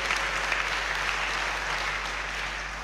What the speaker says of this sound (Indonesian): tepuk tangan buat semuanya dulu dah.